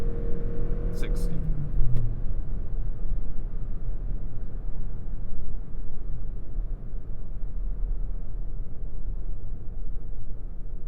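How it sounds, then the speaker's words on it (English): A 2025 Toyota Crown Nightshade with a CVT accelerating uphill gives a steady, droning engine and road rumble that holds throughout, with brief talk near the start. "you do get that typical droney CVT noise when you're accelerating"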